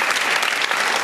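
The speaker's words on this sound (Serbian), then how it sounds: "Ne sve, naravno, samo, molim vas aplauz" A studio audience on a television talk show breaks into loud, dense applause, a continuous close wash of many hands clapping for the whole second.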